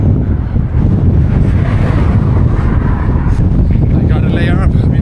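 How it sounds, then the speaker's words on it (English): Strong, gusty wind roars and buffets the microphone on the Karakoram Highway in Xinjiang during a bicycle tour, loud and constant throughout, with brief traces of a voice under the rumble. "This wind."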